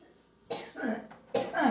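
Two short, fairly quiet coughs, separated by a brief pause, with a little throat-clearing in between.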